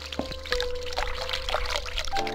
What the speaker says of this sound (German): Muss ich jetzt den Wasserhahn ausmachen,